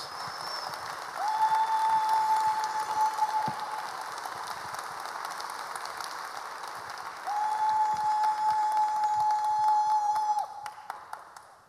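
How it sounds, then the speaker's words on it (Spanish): A Spanish-speaking church congregation applauds loudly, a full crowd clapping that swells in two waves, with a sustained electronic tone ringing over it, before the clapping thins into a few last claps. "Más fuerte el aplauso para el Señor"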